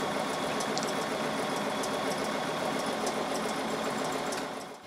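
A sewing machine stitches a building design in free-motion quilting, running as a steady fast mechanical whir with a dense needle rhythm, close and loud. It runs alone without talk and slows to a stop at the end.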